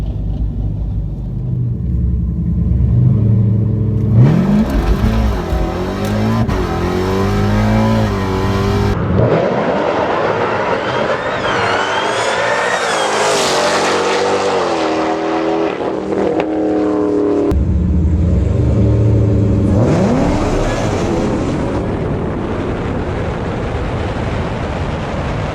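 A 1000-horsepower Dodge Charger Hellcat races a fast Mustang, with loud, sustained engine roar rising and falling through repeated hard accelerations and gear changes, up close and filling the whole stretch without a break.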